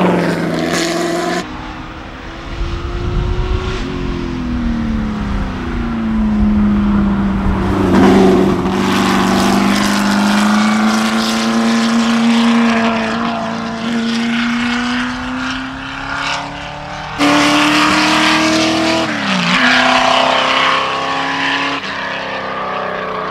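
A Ford GT40 race car with a roaring 427 engine runs at speed on a track under thick, damp, overcast air, its loud sustained drone rising and falling in pitch through gear changes across the whole stretch, with no talk.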